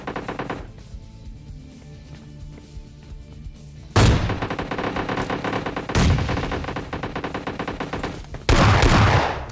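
Sniper rifle shots in the PUBG Mobile video game, three loud sharp blasts spaced a couple of seconds apart, each followed by a ringing tail over steady game background sound.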